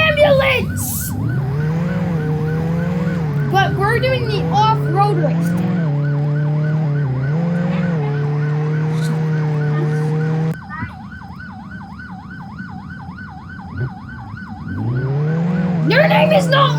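An ambulance siren in the Roblox game Jailbreak wails continuously in a rapid, rising-and-falling cycle during an off-road race, with loud voices chatting over it.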